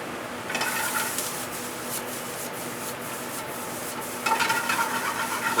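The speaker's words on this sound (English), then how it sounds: "Just give that a quick saute." Baby spinach and pan-roasted wild mushrooms with salt and pepper sautéing in a restaurant kitchen pan, a steady soft sizzle with scraping and stirring, swelling louder near the end.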